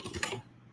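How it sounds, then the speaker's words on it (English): Computer keyboard typing during an online office-hours session, a quick burst of close, soft key clicks that trails off, then one more click near the end, with no voices. "I'm typing off screen here"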